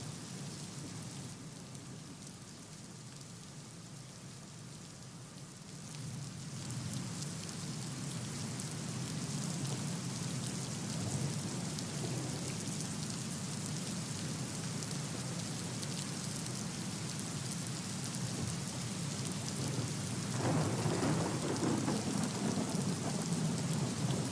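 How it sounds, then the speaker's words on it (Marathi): Steady heavy monsoon rain pours down in Roha taluka, Raigad, with a low, continuous rumble of thunder underneath, the downpour growing louder and denser partway through. "रायगडच्या रोहा तालुक्यामध्ये जोरदार पाऊस आता सुरू झालेला आहे"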